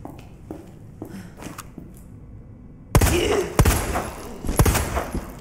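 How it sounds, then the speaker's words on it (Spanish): Rapid bursts of gunfire crackle loudly in the video game Resident Evil 2 Remake, a barrage of shots after a few softer, scattered pops at the start. "Como 1000 tiros."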